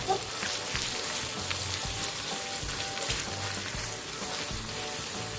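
Squid frying in hot oil: a continuous crackling sizzle with rain-like spatter, close and steady, with no talking over it.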